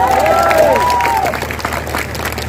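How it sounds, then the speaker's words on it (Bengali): Applause and crowd noise fill a political speech gathering, with a whistling or squealing tone sliding over the clapping at the start. "ওনার জন্য একটা হাততালি আমি আশা করি"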